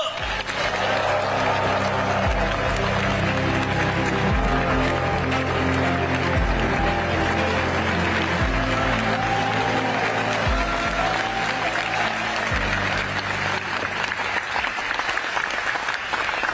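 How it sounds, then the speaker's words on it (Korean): An audience at a provincial government event in South Jeolla claps continuously to welcome the prime minister. The warm applause runs the whole time over a loud, sustained tonal background that shifts in pitch every couple of seconds, with no speech. "김민석 새벽 총리님을 뜨거운 박수로 다시 한번 앞으로 소개합니다."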